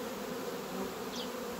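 A honeybee colony in an opened hive whose frames were left undisturbed for six months hums in a steady, close, continuous buzz with no talk.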